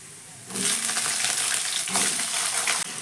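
Cut potatoes land in hot oil with spices and lightly browned garlic, and a loud, dense sizzle bursts up after a quiet start, then holds steady and close with light stirring.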